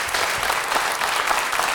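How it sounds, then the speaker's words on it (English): A brief stretch of dense, even audience clapping continues in a hall following a student string quartet's playing of Haydn, steady and fairly close throughout. "I tell you what that applause is."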